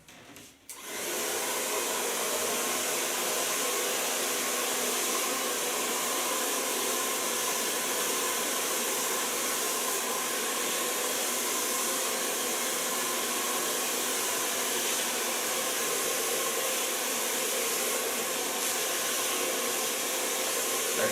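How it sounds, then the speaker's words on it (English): A T.K.S hair blow dryer running with a medium-large Ergo round brush on a long bob, a loud, steady close-up roar of airflow that starts after a brief click and holds unbroken for about twenty seconds with no talking. "But first I'll try it with the new blow dryers of T.K.S and a medium large brush of Ergo."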